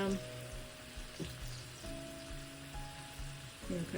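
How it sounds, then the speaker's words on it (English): Italian sausage and meatballs browning in oil in a pan, a steady low sizzle and crackle at close range, with a few clinks of a utensil and faint talking over the top. "So we're going to brown these all around"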